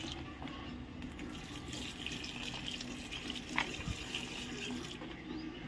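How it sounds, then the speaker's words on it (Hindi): Water running steadily from a tap or hose while a potted flowering plant is watered at home, a quiet continuous trickling with faint splashes and no talking. "मैं आ गई हूँ झाड़ में पानी दे।"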